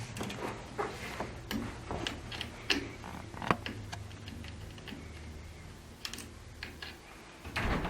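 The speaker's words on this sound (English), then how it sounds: "I'm going to start by taking the roller guards off. And we just do that with a small Allen wrench" Small metal ticks and clicks of an Allen wrench working the roller guards loose on a Hoyt Carbon RX-3 Ultra compound bow, scattered irregular taps up close over a quiet room hum.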